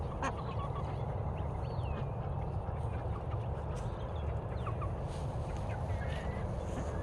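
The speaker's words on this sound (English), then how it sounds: "So there's the female duck quacking, but the drake has a much quieter," Outdoors in Phoenix, Arizona, a female duck quacks while a drake gives a quieter, raspy call; the calls are fairly faint and scattered over a constant low background rumble.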